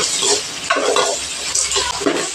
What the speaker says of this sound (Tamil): ஒரு பெரிய வெங்காயம் ரெண்டு கட் பண்ணி வச்சுருக்கேன் அதை போட்டுக்கலாம் வெங்காயம் வந்து நல்லா பொன்னிறமாக வதங்கணும்